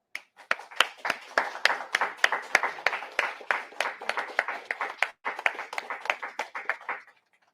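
A small group at a police press conference claps in sparse, distinct hand strikes, close and fairly loud, pausing briefly before resuming and tapering off.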